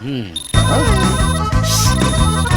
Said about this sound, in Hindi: ये बकवास रिंगटोन है। तेरे बाप का फोन है, उठा।